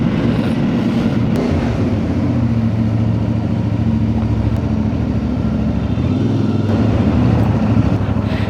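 A CFMoto adventure motorcycle weaves through traffic, its engine running steadily and loudly up close for the whole stretch, with a constant mid-pitched drone and rumble and no talking.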